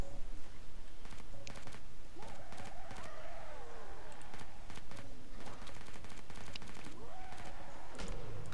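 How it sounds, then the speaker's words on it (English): Scattered bursts of gunfire in the video game Killing Floor 2, sharp cracks arriving in irregular clusters amid a busy game soundscape with warbling creature-like cries in between. "Sporadic gunfire."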